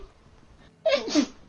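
A single sharp sneeze from a character in the Witcher 3 video game, a short burst after near silence, close and fairly loud.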